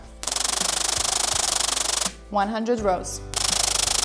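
A knitting machine carriage runs loudly across its rows in a rapid, steady rattling clatter. It stops briefly while a person speaks, then starts again at full volume.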